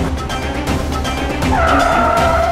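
A car skids to a halt on a road, its tires squealing in a loud rising screech over steady engine and traffic rumble, the squeal sustained through the last second.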